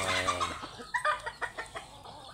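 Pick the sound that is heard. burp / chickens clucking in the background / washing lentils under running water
chickens clucking in the background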